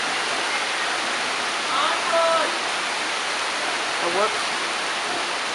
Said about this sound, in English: There's lots of rain, anyway. Lots and lots and lots of rain.